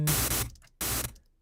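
Two short bursts of broadband white noise from a Serum software synthesizer, each about half a second long with a gap between, played alone without talk.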